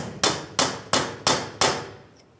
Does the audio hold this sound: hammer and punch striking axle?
yes